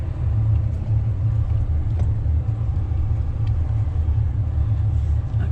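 A car in four-wheel drive high rolls along an icy rural mountain road near Cloudcroft, New Mexico, giving a steady, low engine and tire rumble from inside the cabin with no talking.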